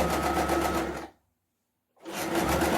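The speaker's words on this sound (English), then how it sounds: "So you start sewing your bias trimming on the right side of the fabric" Sewing machine stitching bias trimming onto the right side of blouse fabric, a steady close whirring run that stops for almost a second, then starts up again at the same loud, even pace.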